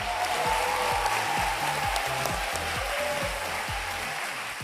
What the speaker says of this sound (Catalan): Un aplaudiment pel Julien!